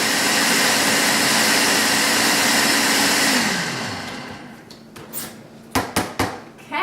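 A kitchen blender mixing a green smoothie whirs steadily and loudly for a few seconds, then winds down, followed by several sharp clinks and knocks of the jar and utensils.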